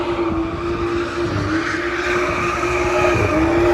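BMW M2 with stability control off, wheel turned left and floored, tires spinning in a sustained loud squeal over the straining engine, steady and close with no talk.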